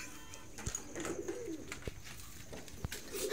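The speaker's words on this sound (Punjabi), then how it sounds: "ਲੋ ਵੀ ਦੋਸਤੋ ਐਦਾਂ ਕਬੂਤਰ ਸਾਫ਼ ਹੁੰਦੇ ਨੇ" Pigeons being kept, cooing softly in a low rolling rhythm near the microphone, with a few sharp knocks and scuffs and no voices.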